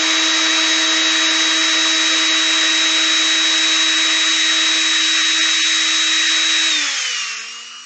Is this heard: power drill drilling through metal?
yes